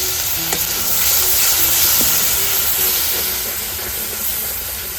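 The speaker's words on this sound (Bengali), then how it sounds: "সামান্য জল দিচ্ছি মশলাটা রান্না তো পুড়ে যাবে" A little water hits hot frying spice masala of chili, coriander and cumin powders for chicken vapa, raising a loud, continuous steamy hiss and sizzle with faint stirring clicks. No voices.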